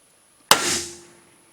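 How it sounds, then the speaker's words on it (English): A single sharp metallic strike, a punch hammered into metal, with a brief ringing tail fading in quiet surroundings. "I just want to put a little punch mark there so my drill doesn't walk."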